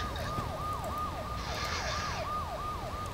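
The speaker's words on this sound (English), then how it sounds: "Are those police sirens?" A wailing police siren in a video game sweeps up and down in a fast repeating cycle, steady and moderately loud over a rumbling background.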